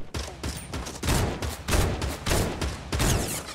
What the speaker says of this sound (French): Ok, il tire avec la nouvelle arme aussi.